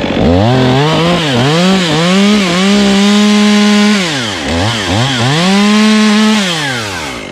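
Chainsaw cutting off a standing tree, loud and close, its engine rising and falling as the cut bogs down and revs back up.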